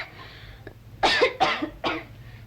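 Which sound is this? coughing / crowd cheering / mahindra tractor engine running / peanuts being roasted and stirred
coughing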